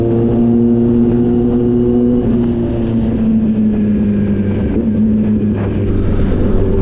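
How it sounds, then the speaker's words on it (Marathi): A diesel Mercedes G63 at a drag-race event in Aamby Valley runs with a loud, steady low engine drone whose pitch shifts slightly, accompanied by wind buffeting on the microphone. "पण ही डिझेलवाली आहे आपली G63 आहे"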